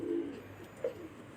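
Kasur pigeons give soft, low coos, two short murmured calls close by over a quiet background, with no one speaking.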